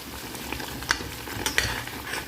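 A spoon stirs buttered chicken and a splash of cooking cream in a hot pan, sizzling gently. Scraping strokes come close and clear, with a few sharper clinks against the pan.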